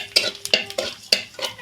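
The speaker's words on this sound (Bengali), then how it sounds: "ফোড়নের জন্য দিলাম গোটা জিরে, দিচ্ছি একটা তেজপাতা।" Whole cumin seeds and a bay leaf dropped into hot mustard oil in a kadai, giving a close run of sharp crackles and clinks over a low sizzle, with several distinct bursts in quick succession.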